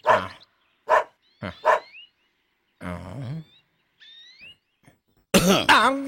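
Large dogs bark in short, loud bursts with gaps between them, close by, ending in a cluster of heavier barks; no talk is heard.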